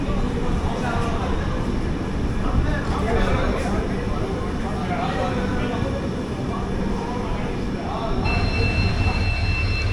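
The Chennai–Bodinayakanur AC Superfast Express 20601 stands at Bodinayakanur station, where it terminates. Low rumble of rail equipment and platform noise carries on throughout, with thin squealing tones near the end, while someone talks over it.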